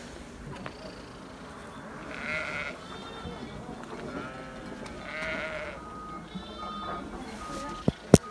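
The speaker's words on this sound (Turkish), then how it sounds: "Evet koyunlar gelmeye başlıyor arkadaşlar." Sheep bleat repeatedly at a moderate distance in a village, several overlapping calls rising and fading, with a couple of sharp knocks at the end.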